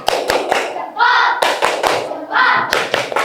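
Classroom students perform a tepuk jempol clapping chant, with rhythmic bursts of hand claps and thumps alternating with short sung or chanted vocal phrases, all close and lively.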